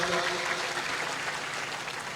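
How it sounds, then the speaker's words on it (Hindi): Steady, dense applause from an audience welcoming a Rajasthan state minister at a religious assembly marking the kalash installation at Shri Jambheshwar temple in Salundia, sustained for a couple of seconds. "जोरदार तालियों से अभिनंदन और स्वागत"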